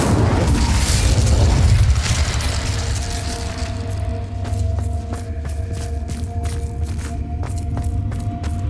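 A fire spell cast in Hogwarts Legacy bursts with a loud, booming whoosh of flame that roars for about two seconds, then settles into a sustained crackling burn under scattered sharp game-effect clicks and pops.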